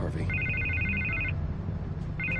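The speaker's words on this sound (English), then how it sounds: "I can't get the phone to stop ringing." Telephone ringing in the Batman Telltale video game: repeated electronic trill bursts, a long ring then a second starting at the end, loud over a steady game background hum.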